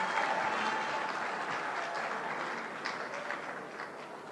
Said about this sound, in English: Please give it a round of applause.